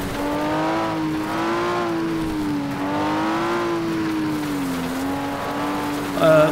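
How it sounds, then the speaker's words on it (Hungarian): A race car engine in the racing game FlatOut roars steadily at high revs, its pitch rising and dipping in long waves, loud and close, with a brief bump at the end. "amikor ordít a motor"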